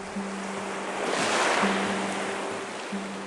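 Sea waves break on a shore and surge up toward a rock, a broad rushing roar that swells to a peak midway and then eases back, with a faint steady low tone beneath.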